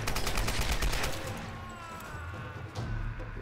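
An AK rifle in the Tomb Raider video game fires a rapid burst of loud automatic shots, then the sound drops away to a low rumble, with a final thud near the end.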